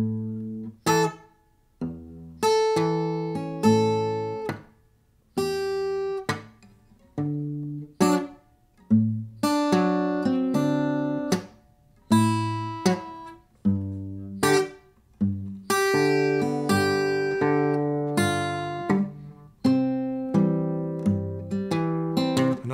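Slowly played ragtime chord progression on acoustic guitar, with bright strummed and picked chords arriving in a halting rhythm and letting ring between changes, close and clear for over twenty seconds with no talking.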